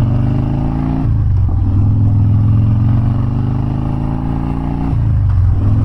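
A 2015 Harley-Davidson Dyna Street Bob fitted with a Vance & Hines exhaust rumbles loud and close, its deep V-twin note rising as it revs and shifting gear twice in a steady, throaty pull.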